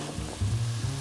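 Chopped leek, carrot and onion fry in oil in a pan for tomato soup, giving a steady close sizzle that swells slightly partway through, with no talking.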